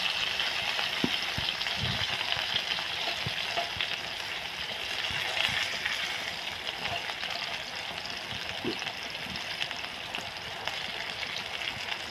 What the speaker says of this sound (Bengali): আর এই যে পটলগুলো ভাজাচ্ছে